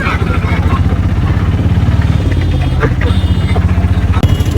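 An auto rickshaw engine drones steadily while riding, a close, rough, putt-putt rumble with a continuous beat, with people talking over it.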